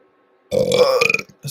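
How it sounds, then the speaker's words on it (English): A single close, loud burp lasting about a second, voiced and gurgling, followed by a brief breathy sound at the end. "Spiritual burp again."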